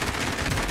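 Sustained, loud gunfire from the Call of Duty Warzone video game, a dense continuous burst that fills the short moment.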